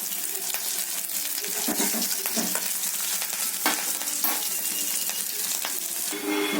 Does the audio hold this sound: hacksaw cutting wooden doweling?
no